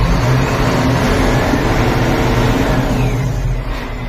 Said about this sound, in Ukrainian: Оце ну, мотор.